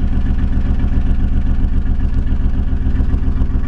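A 2006 Ford Crown Victoria Police Interceptor with a rough idle rumbles at the rear exhaust pipes, a steady, loud, close low-pitched drone with a slight uneven pulse.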